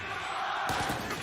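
An esports arena crowd at a VALORANT match surges into cheering partway through, a broad roar swelling over the ongoing event noise.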